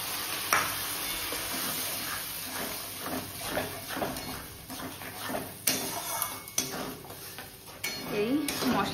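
Ground turmeric, cumin, coriander and salt go into fried onions in a pan, with a spoon clinking and scraping against the metal over a soft sizzle.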